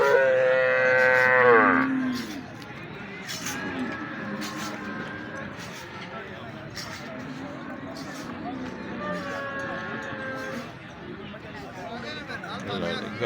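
Cows moo at an outdoor cattle market in Kharian, with one loud, drawn-out low moo near the start and further moos from around the yard, under a mix of people talking and general crowd noise.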